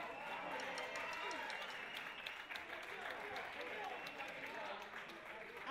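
Sustained applause and cheering fill a concert hall at a band semifinal in Bilbao, the crowd clapping continuously and loudly for the whole stretch, with dense overlapping hand claps and no pauses.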